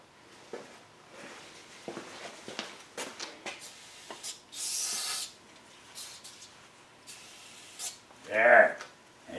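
Quick start aerosol sprays as a cleaner onto a centrifugal clutch during a repair, making a short, loud hiss among light scraping and rubbing sounds, with people talking nearby.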